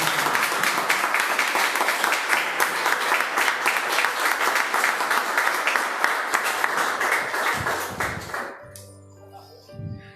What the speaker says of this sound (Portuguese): Dê uma linda salva de palmas ao Senhor